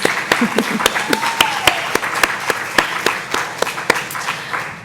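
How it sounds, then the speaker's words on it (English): A small audience applauds, scattered sharp claps forming a steady patter that thins out toward the end. "can we just have a round of applause for the Pulitzer Center, please?"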